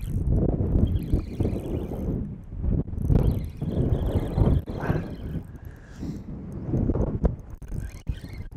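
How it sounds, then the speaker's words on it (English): Gusty wind buffets a microphone on a fishing boat out on the water during a bass outing, with irregular heavy rumbling surges and brief lulls, loud and close, no voices. "Gosh, is it windy."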